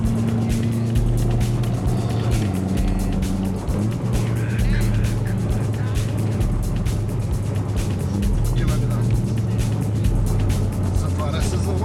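A rally car accelerates up to fifth gear at a rally school, its engine a loud, continuous drone with shifting pitch throughout, heard from inside the car.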